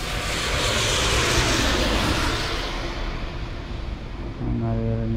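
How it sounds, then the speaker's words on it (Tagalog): A bus engine approaching on a winter road in New Zealand, a broad loud rumble and roar that swells and holds steady, with a deeper engine drone settling in near the end as it pulls closer. "Naririnig ko yung tunog ng bus."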